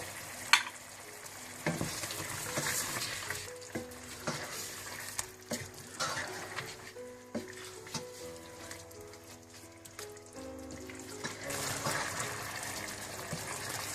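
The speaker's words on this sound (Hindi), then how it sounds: "सब कुछ मिलाकर आप इसको अच्छी तरह से भून लें" Whole spices such as black pepper, cinnamon, green and black cardamom, bay leaf, star anise, cloves and cumin fry and stir in a pot for degi chicken biryani, with steady close sizzling and occasional scraping stirs.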